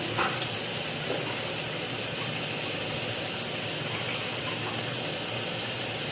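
Capsicum and salt sizzling in a hot pan while cooking white sauce pasta, a loud, steady, broadband hiss with faint scraping, continuous throughout with no talking.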